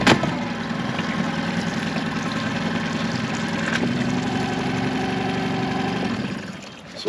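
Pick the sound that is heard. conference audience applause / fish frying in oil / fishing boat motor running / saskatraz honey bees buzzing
fishing boat motor running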